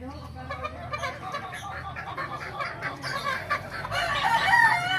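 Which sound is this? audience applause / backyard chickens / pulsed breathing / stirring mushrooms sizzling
backyard chickens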